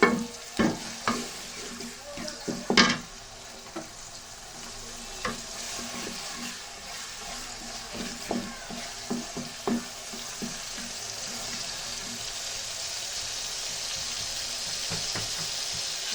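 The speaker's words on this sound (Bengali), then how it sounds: "একটু ভাজা করতেছি।" Native chicken frying in a pan makes a steady broadband sizzle, with scraping stirs and clinks that land as sharp, irregular taps over the first ten seconds before the hiss settles into a continuous near fry.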